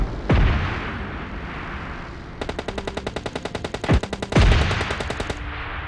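PUBG Lite gunfire: a few single heavy shots boom, then a rapid automatic burst, as from an M4, rattles off in quick, evenly spaced rounds, followed by more booming shots.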